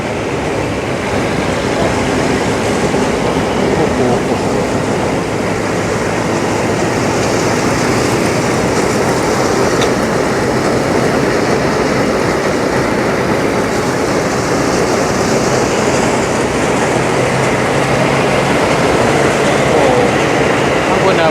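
A rice milling machine husks rice with a loud, unbroken mechanical drone and rattling rumble that holds steady from start to finish.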